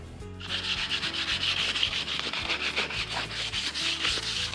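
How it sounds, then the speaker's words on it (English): Cedar wood being hand sanded with 120 grit sandpaper, a steady, close, loud scratchy rubbing in quick back-and-forth strokes throughout, with no talking. "I think it's like 120 sandpaper and just cleaning up all, all those fuzzies, rough edges."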